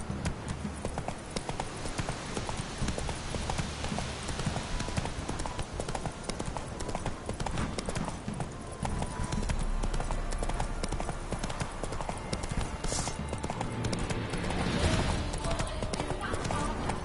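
Roach, a horse in The Witcher 3, trots with steady, continuous clip-clop hoofbeats through the whole stretch, close and fairly loud, over a dense game soundscape with talking at times.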